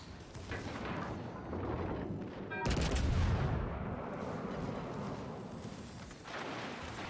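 Secondary battery guns on a warship in World of Warships Legends fire at an enemy ship, heavy booming shots with a sharp loud blast partway through over a constant rumbling battle backdrop.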